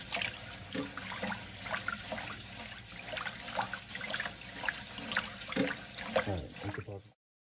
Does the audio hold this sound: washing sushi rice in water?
yes